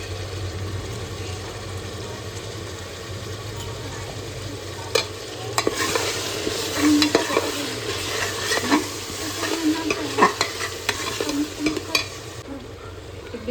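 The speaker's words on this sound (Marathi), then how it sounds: "छान असं परतून घेतलं, याला मस्तपैकी तेल सुटलं आहे." Green paste of ginger, garlic, coriander, coconut and green chilli stir-fried in oil for veg pulao: a low steady sizzle, then clattering spoon strokes against the pan from midway on.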